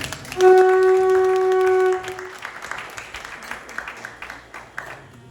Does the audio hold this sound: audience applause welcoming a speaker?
yes